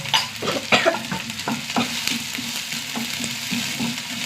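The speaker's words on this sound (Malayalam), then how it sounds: "ചതച്ച മുളക് ഇട്ട് കൊടുക്കണം." Crushed chili frying with curry leaves and small onions in a pan, a steady sizzle under repeated quick spatula scrapes and stirs, fairly close and moderately loud, no voices.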